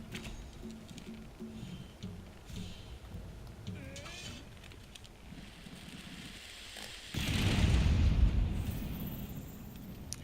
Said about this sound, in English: We're going to use those bombs we brought along.